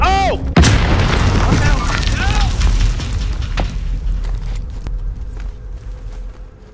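A frag grenade goes off in a first-person shooter, a loud booming blast with rumbling low-end decay that fades over several seconds, with scattered game sounds behind.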